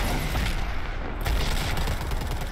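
Dense, rapid gunfire from the Predator video game, loud bursts of shots merging into a continuous crackling barrage with booming low impacts and no talk.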